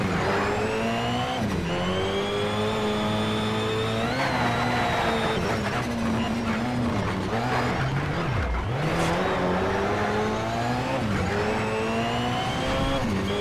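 A race car engine in the PC racing game Need for Speed SHIFT roars steadily and loud throughout, its revs rising and dipping through gear changes with a brief tire squeal near the middle.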